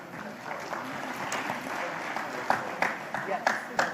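Steady applause from a crowd at an awards ceremony fills the room, with a few sharper, louder claps standing out near the end.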